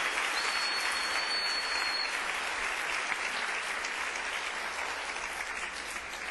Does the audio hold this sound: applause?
yes